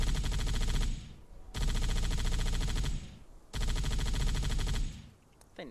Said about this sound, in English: I'm going to put some more rounds down range.